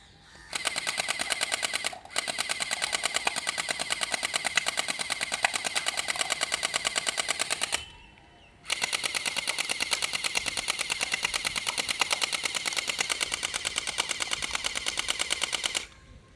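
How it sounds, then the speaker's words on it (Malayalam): A battery toy gun firing gel bullets goes off in long rapid-fire bursts, a steady mechanical rattle that stops briefly twice before starting again. "അപ്പോൾ നമുക്കിനി അതിലേക്ക് വെടി വെച്ച് നോക്കാം."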